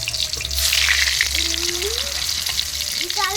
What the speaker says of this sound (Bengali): গরম গরম তেলে আলু ছেড়ে দিয়েছি